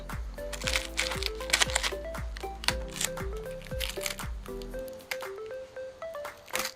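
Packing tape peeled off a pallet box in a series of squealing, rising-and-falling rips, each strip crackling as it tears loose, close and moderately loud.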